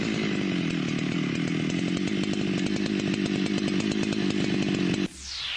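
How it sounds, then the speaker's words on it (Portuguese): A chainsaw engine runs loud and steady at close range, a continuous buzzing drone that cuts off abruptly near the end, with no talking. "Veja como o arranque deve ser feito."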